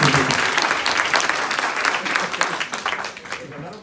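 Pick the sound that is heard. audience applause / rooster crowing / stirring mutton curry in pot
audience applause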